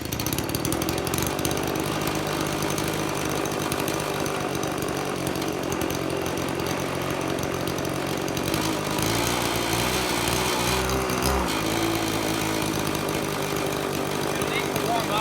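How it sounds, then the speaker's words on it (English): An RC motor spins a 13x6 propeller on a test stand, giving a steady, loud, high buzzing drone that wavers in pitch partway through. Someone talks over it. "we're going to be starting off testing the old propeller to get a benchmark of what this does"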